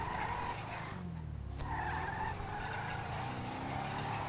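Car tires screech and skid after being popped by a stinger in a GTA roleplay game, a continuous high squeal over engine roar with a brief break.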